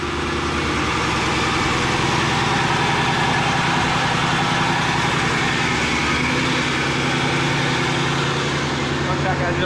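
A freshly built 1,000-horsepower Ford F150 sleeper truck idles after its first start, a steady, rumbling engine drone that fills the whole stretch at constant loudness, with people talking over it.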